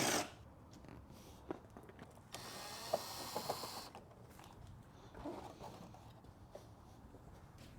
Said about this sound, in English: Right now I'm gonna remove all the Allen head screws on the bottom fairing.